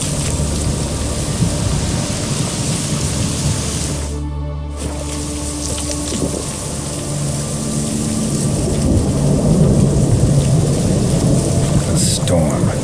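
A thunderstorm with steady rain rolls through the world of The Witcher 3, a dense continuous downpour with low rumbling that swells toward the end, and voices talking over it.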